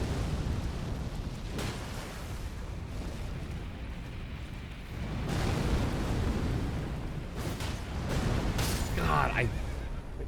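Fire attacks blast in Elden Ring: Shadow of the Erdtree during a boss fight, with rumbling, roaring explosions swelling and fading over a continuous game soundscape while a player talks throughout.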